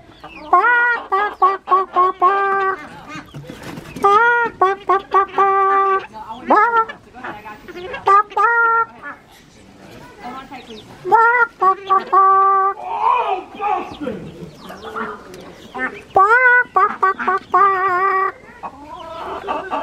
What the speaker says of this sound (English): I'm calling the chickens.